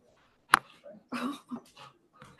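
A dog lets out a sharp yelp followed by a few soft whimpers and breathy whines, close by, with people talking in a busy room around it.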